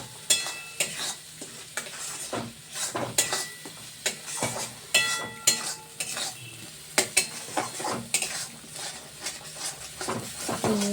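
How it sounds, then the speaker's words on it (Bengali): Egg curry being stirred and sautéed in a pan: a steady sizzle of frying under repeated scraping and clinking of a metal spoon against the pan, close and busy throughout. "দেখ ভালো করে কষিয়ে নিচ্ছে"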